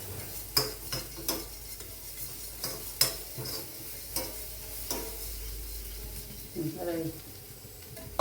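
Beaten eggs mixed with salt for frying, stirred with a utensil that knocks and clicks repeatedly against the bowl in an irregular rhythm, close and fairly quiet, with faint background murmur.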